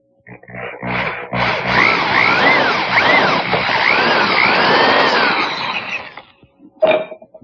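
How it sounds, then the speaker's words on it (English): A power drill bores about an inch into a wooden Windsor chair seat, revving up into a loud, sustained whirring with wavering pitch, then stopping, followed by a brief clunk. "Now I keep the shank of the drill bit centered in the hole that I just made and drill about 1 inch into the seat."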